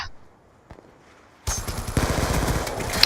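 Call of Duty Black Ops II gunfire breaks out suddenly after a quiet stretch, a loud rapid burst of automatic shots that continues to the end, preceded by one faint isolated click.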